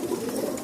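Male pigeons coo in a brief low throaty burble nearby, steady and moderately loud.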